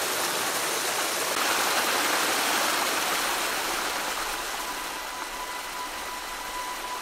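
Waterfall beside a long lake in Norway gives off a steady, loud, broadband rush that fills the whole clip without pause, with no voices over it.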